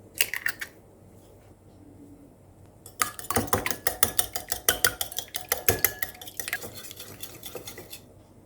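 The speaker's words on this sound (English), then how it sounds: "In a bowl, crack the eggs and add a pinch of salt. Whisk them together until well beaten." Eggs are whisked with a pinch of salt in a bowl for cabbage okonomiyaki rolls. A few clinks come first, then a quiet pause, then fast, steady, rhythmic tapping of the whisk against the bowl, close up with no talking.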